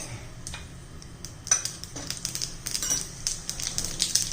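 Mustard and cumin seeds splutter in hot oil for green moong dosa tempering, giving faint, quick crackling pops that grow busier after the first second.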